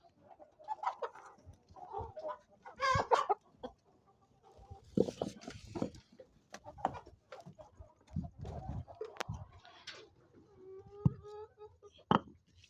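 Desi laying hens cluck and squawk in bursts throughout on a poultry farm, several birds close by with short pauses between calls, a coop full of chatter.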